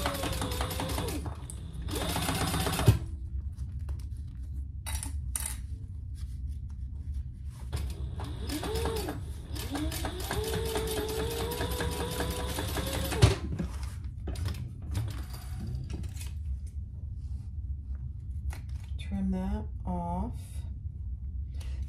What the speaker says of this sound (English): Let's sew that on.